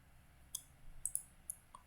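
Keyboard keys being pressed for a Ctrl+R shortcut in SAP2000 structural modelling software: a few faint, sharp clicks spread over about two seconds, alone in a quiet room.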